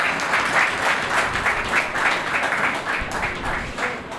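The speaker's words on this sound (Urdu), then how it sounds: "زوردار تالیوں کے ساتھ." Loud applause fills a hall at a ceremony at Government High School Daultala, many hands clapping in a dense, steady wash that holds for several seconds.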